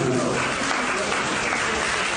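An audience applauds at a public gathering in Odesa, a dense steady wash of clapping from many hands that holds evenly throughout.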